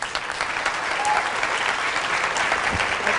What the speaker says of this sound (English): A big round of applause to Kim.